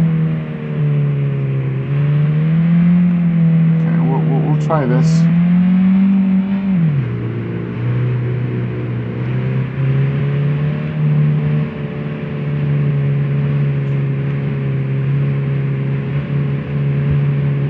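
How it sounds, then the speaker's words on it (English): An unmuffled car engine drones loud and steady nearby, its pitch rising then dropping once as it revs before settling into a constant rumble; a voice speaks briefly. "All I know is this guy does not have a muffler on his car."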